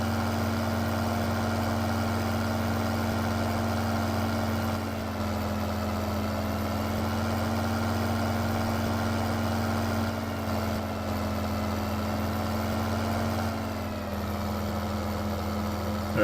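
A tractor engine idles steadily in Farming Simulator 15, a constant low droning rumble that holds unbroken, with a slight shift in tone partway through and no talking.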